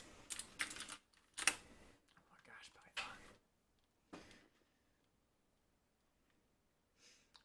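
Clacky bursts of typing on a mechanical keyboard with Cherry MX Blue switches, a few short loud flurries with pauses between them, close and sharp, with faint speech in the quieter gaps.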